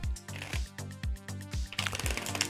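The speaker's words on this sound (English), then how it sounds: "you don't want to watch me shuffle" A deck of tarot cards is shuffled close by: a run of regular, rhythmic card slaps gives way to a rapid, crackling riffle, with no one talking.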